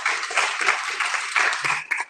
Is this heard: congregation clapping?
yes